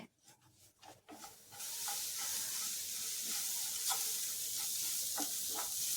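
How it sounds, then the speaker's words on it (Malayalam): Cumin seeds frying in a dry non-stick pan for a ginger curry, starting with a few quiet stirring scrapes before a steady, close sizzle takes over and holds, with occasional light ticks and pops. "നോൺ സ്റ്റിക്കിലാവുമ്പോൾ പെട്ടെന്ന് തന്നെ വറുത്തെടുക്കാം"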